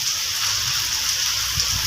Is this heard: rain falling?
yes